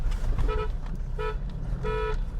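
An upgraded, louder horn on a Toyota Fortuner sounds three short honks heard from inside the car over a low engine rumble, no talk.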